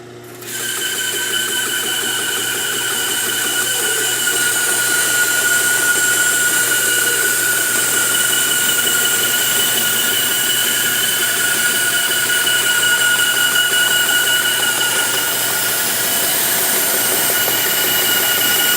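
A saw running against a Magswitch Carter MagFence whines steadily and loudly for a long stretch, with a sustained high-pitched tone and a smooth, continuous cutting roar that barely changes from start to finish.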